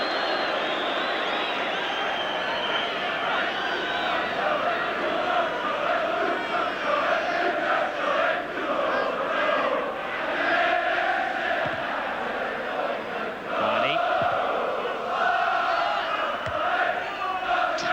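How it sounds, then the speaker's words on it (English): Wrexham supporters cheer and roar as a crowd at a night football match against Manchester United in the European Cup Winners' Cup, a dense, sustained wall of voices swelling and dipping across the whole stretch. "Joey Jones earns the biggest cheer of the night from the Wrexham supporters for that tackle"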